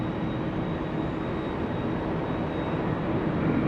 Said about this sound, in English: Sky West 3769 flying in from Oakland, California.